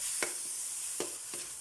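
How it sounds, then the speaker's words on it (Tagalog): Miso sizzles in a pan with tomatoes as a utensil stirs it, giving a soft, continuous frying hiss broken by three quick scraping strokes. "Igisa po natin yung ating miso."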